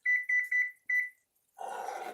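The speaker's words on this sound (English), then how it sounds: "I'm going to put the timer on 4 minutes." A kitchen timer being set for a blueberry jam canning session gives four short, loud electronic beeps in quick succession, then a broader hissing wash of rolling boil noise follows.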